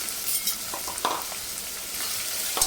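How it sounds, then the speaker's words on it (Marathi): Chopped onions fry in a pan with bay leaf and cloves, a steady close sizzle with a few soft stirring scrapes and brief bursts, no voices. "आपल्याला हा कांदा मऊ होईपर्यंत छान परतवून घ्यायचा आहे"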